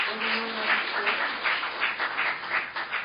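An audience at a party convention claps to welcome a lawmaker, a short burst of dense, steady applause heard from within the hall, with no speech over it.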